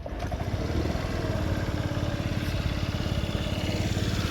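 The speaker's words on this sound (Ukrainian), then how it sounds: "Рівно тримає оберти, по двигуну без зауважень." A Yamaha Jog AY01 moped engine idles steadily after a kickstart, a close, loud, even two-stroke putter with a fast regular pulse that holds constant revs throughout, with no talking.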